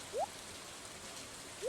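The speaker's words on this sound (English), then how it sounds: "Since it's raining" Rain falls in the Stardew Valley video game as a soft, steady hiss, broken by two short rising chime tones.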